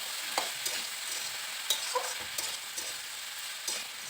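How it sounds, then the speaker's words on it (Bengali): Salted mixed vegetables being fried and stirred in a pan, a continuous bright sizzle punctuated by regular light scrapes and taps of the spatula, close and without any voices. "লবণ দিয়েও সবজিটাকে একটু ভালো করে নেড়ে চেড়ে ভেজে নিচ্ছি।"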